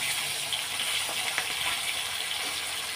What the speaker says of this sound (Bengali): মাছটা ভাজা বসিয়ে দিয়েছি, এখন উল্টেই দেবো।